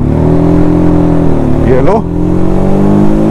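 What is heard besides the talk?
TVS Apache RTR 310 motorcycle engine pulling off in third gear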